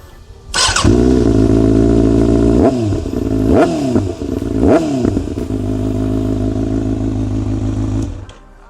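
A 2026 Kawasaki ZX-6R sport motorcycle with an SC Project exhaust starts with a sharp crack, then idles with a deep, rumbling burble and blips the throttle three times in loud rising revs before cutting off.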